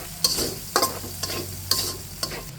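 Masala with salt being stir-fried in a pan: a steady low sizzle with a regular series of sharp spatula scrapes, about five strokes in quick rhythm, close and moderately loud.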